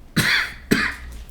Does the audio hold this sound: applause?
no